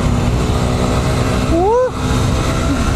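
A Malaguti motorcycle rides a winding road, its engine a steady, close drone throughout, with a brief rising and falling whine near the middle as it takes a curve.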